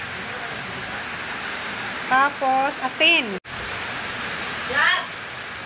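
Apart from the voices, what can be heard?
heavy rain falling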